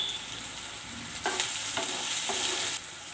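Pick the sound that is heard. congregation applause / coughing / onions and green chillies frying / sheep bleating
onions and green chillies frying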